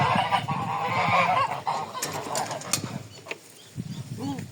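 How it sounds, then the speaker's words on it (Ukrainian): Geese honk repeatedly close by amid a busy farmyard, with rustling, a low mechanical hum and scattered background noise. "Заходило до гусей."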